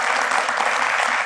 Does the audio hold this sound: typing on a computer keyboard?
no